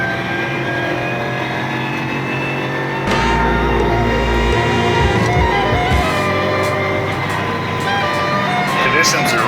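A BMW E92 engine drones inside the cabin while accelerating on the Nürburgring on a tricky, low-grip morning, a loud steady hum that swells into a deeper rumble partway through, with a voice coaching over it.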